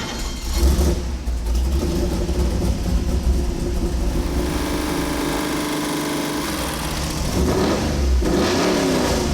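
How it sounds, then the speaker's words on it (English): A Chevy 454 V8 runs on an engine dyno, rumbling at a loud idle with a couple of throttle blips that rise and fall. "we're going to put the 454 back on the Dyno"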